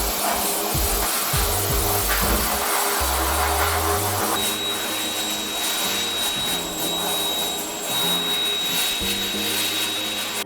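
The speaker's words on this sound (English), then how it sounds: "So I'm gonna go ahead and sandblast and repaint this one only." Sandblasting a rusty headlight part from a 1967 Porsche gives a continuous loud hiss of blasted grit with a steady rushing roar and some low rumbling beneath, sustained throughout with no talking.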